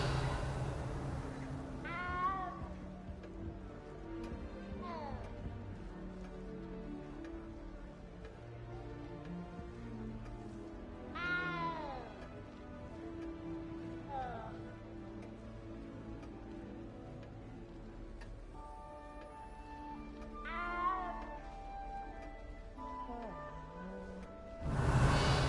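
A cat in a Harry Potter video game meows repeatedly, short rising and falling mews spaced every few seconds over soft background game music.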